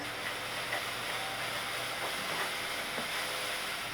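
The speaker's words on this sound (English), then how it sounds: "As steam comes out, so I will reduce the heat because pressure cooker is really powerful." Steam hisses steadily from a pressure cooker on a stove, a continuous broad, even rush of fairly quiet noise with no talking.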